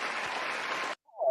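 Applause breaks out close by, a dense burst of clapping that holds steady for about a second and then cuts off, followed by a brief voice.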